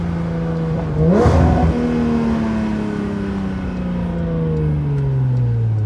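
A 992 Porsche GT3 Touring with a full Dundon titanium exhaust revs sharply once, then holds a loud, droning exhaust note that slowly falls in pitch as it settles.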